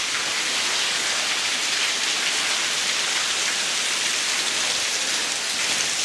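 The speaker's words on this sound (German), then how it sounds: "Und es plätschert hier ohne Ende." Water splashes and trickles steadily inside a mountain bunker tunnel of an Alpine fortress in the Gotthard massif, a loud, continuous rushing wash with no pauses and no voices.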